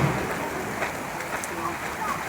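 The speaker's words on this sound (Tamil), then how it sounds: "ஒரே மழையா பெய்யுது காய்ஸ்." Heavy rain pours at Varkala Beach in Kerala, a dense, steady hiss of falling water with no gaps, fairly loud and close, with a voice speaking briefly over it.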